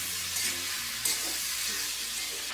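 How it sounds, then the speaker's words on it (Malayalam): Chicken varattu stirred in a pan once the lid is off, a steady close sizzle of frying with soft scraping from the spoon. "ഇനി ഇതിൻ്റെ അടപ്പൊന്ന് മാറ്റിയിട്ട് ഇളക്കി കൊടുക്കാം."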